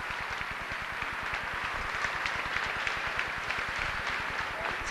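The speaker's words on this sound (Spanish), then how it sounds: "les va a mostrar la gente de pie aplaudiendo a Lolita Torres" A standing audience at a 1995 television tribute to Lolita Torres claps in a dense, continuous wave of applause, with the steady rhythm of many hands and some crowd murmur underneath.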